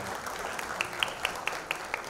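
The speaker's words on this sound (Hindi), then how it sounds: "और तालियां हो जाए एक बार" Audience applause at a trailer and poster launch event, soft and fairly distant, a steady low patter with a run of regular sharp claps standing out about every quarter second.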